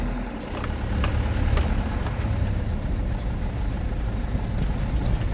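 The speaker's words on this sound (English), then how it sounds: "I think it's the engine brakes or something that turn on when you let go of the gas" A 2000 Mitsubishi Fuso FE-SP truck with a 4-cylinder turbo diesel 4D34 engine drones steadily from the cab as the driver lifts off the gas and the engine brake engages, producing a continuous low rumble with faint ticking.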